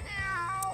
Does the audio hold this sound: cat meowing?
yes